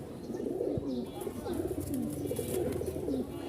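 White pigeons at a Mirpur-1 pigeon market in Dhaka coo softly and repeatedly in low, rolling phrases, close and steady against a faint background murmur.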